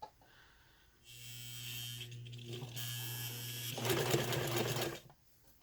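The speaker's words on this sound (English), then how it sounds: "I will use the pedal on my sewing machine, but when I get towards corners like this, I will hand crank it" A sewing machine stitches layered vinyl appliqué, its motor whirring in a steady, close run of about four seconds, rising slightly near the end before stopping, with quiet gaps before and after.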